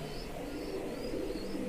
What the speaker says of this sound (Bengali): ভালো এই এক পেয়ার ভালো কবুতর আছে, আপনারা নিলে নিতে পারেন।